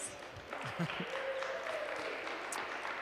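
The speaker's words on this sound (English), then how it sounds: "Clap, clap, clap." A spectators' crowd at a one-wall handball finals applauds as an athlete is introduced. Steady, dense clapping runs throughout at a moderate level, with a faint voice now and then over it.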